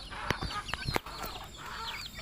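Several chickens cluck and murmur nearby, with a few sharp knocks or taps mixed in among the irregular calls.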